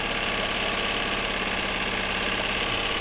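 A small kicker outboard boat motor idles while warming up, a steady rapid mechanical chug with a fine rattling texture, close and constant for the whole stretch.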